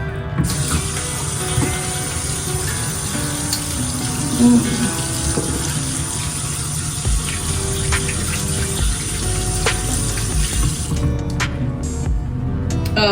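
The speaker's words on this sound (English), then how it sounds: "So I'm gonna wash my hands." Tap water runs steadily into a sink for a long stretch while hands are washed under it, a continuous broadband rush that cuts off near the end.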